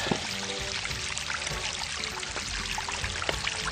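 Rainwater running down a wet-season hiking trail like a creek bed, a steady close pouring and trickling stream with continuous splashing and gurgling, no voices.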